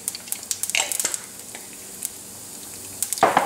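Cumin seeds and urad dal crackling in hot oil for tempering, with scattered sharp pops and sizzles, busiest early and again at the end, faint steady frying between.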